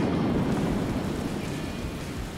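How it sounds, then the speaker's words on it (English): Steady heavy rain pours with a deep rumble of thunder beneath it, a dense, loud wash of noise with no voices. "No, it's raining!"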